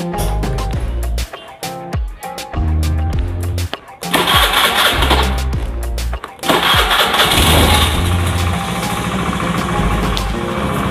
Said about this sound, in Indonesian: setelah kita pasang semua ya, di sini kita akan tes hidup motor ini